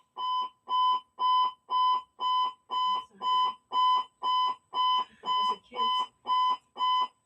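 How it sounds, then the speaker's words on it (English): A building fire alarm beeps in a fast, even series of loud electronic tones, with a voice briefly audible underneath. "so often this will happen where they pull the fire alarm"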